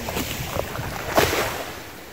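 Broad wash of sea waves and wind, steady and fairly loud, with a brief swell of surf in the middle.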